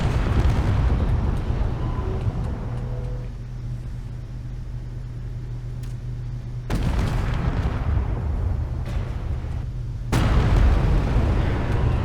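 Rhino weapon rounds blasting open a warship in the Space Engineers game, heavy rumbling explosions at close range: one long roaring boom, then two more sudden bursts in succession.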